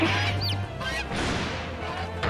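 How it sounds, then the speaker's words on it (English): Birds honk in The Great Ace Attorney Chronicles video game, a loud goose-like chorus of overlapping calls and squawks that comes in bursts with brief dips between them. "Oh gosh, all the birds."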